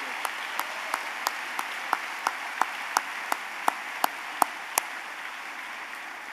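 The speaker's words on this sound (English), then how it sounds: "Can we give our leaders a round of applause" Sparse, evenly spaced claps ring out at a closing ceremony for leaders, a slow single-handed rhythm of about a dozen sharp hits over a steady background hiss.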